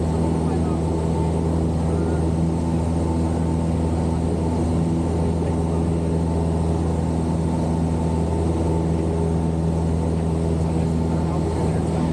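A light airplane heard from inside the cabin while taking off and circling the airport, its engine a loud, unbroken drone that holds steady throughout, with muffled voices underneath.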